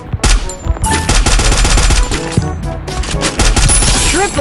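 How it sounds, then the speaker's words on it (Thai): Dense, loud automatic gunfire from the video game Garena Free Fire rattles in rapid continuous bursts, with overlapping shots and sharp impacts filling the whole stretch. "มันยิงกันตรงไหนวะ"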